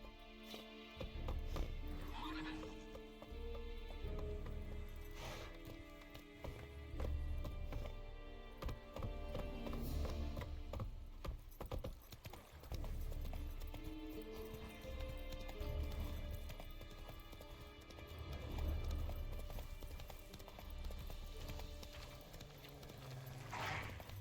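Horse hooves clip-clop steadily in the video game Witcher 3 as the horse rides along, mixed with game music and ambience; any neigh is faint.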